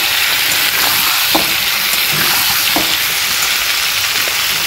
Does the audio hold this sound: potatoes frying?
yes